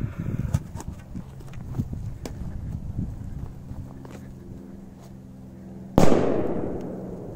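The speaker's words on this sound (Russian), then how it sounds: "Петарда очень мощная. Сейчас миска полетит выше дерева." Scattered clicks and small pops lead up to a single sharp, loud firecracker bang under a bowl near the end, followed by a brief decaying rattle.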